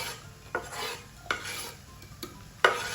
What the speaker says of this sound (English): While we wait for our onions to get to golden brown